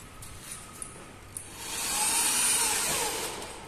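A large automatic carpet washing machine runs with a rising, steady whooshing roar that swells to a broad hiss and holds, preceded by a couple of faint clicks.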